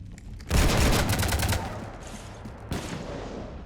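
Burst of rapid gunfire in Mass Effect 3 as shots rake a ship, a dense loud volley lasting about a second, fading, then a second shorter spurt of fire near the end.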